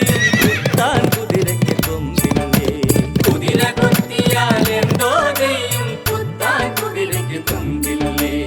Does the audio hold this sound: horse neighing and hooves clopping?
yes